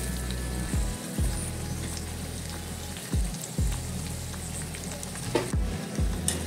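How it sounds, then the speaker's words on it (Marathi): Sabudana popcorn frying in hot oil over low to medium heat, a steady dense sizzle and crackle with a few louder pops, close and without voices. "याला लो टू मीडियम हीटवरच आपल्याला तळून घ्यायचं आहे।"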